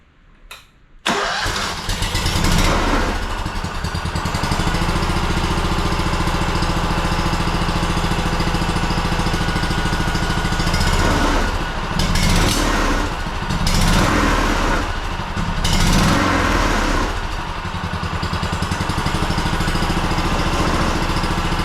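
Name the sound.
two-cylinder Honda engine starting and idling after 10 years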